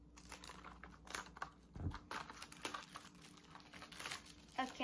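A hair trimmer is pulled free of its plastic packaging with crinkling and tearing. Short, faint rustles and soft tapping clicks come close up, with a quiet voice now and then.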